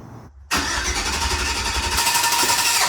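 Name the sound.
1955 Ford truck engine cranking on a jump start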